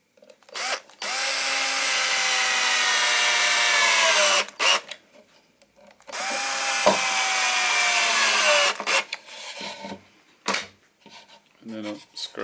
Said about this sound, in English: So to put the back on the mounting bracket, these little 30mm screws will do.